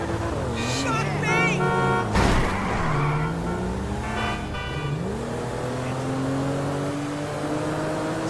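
Car engine driving in GTA 5, a steady motor drone with rising and falling pitch, under people talking throughout.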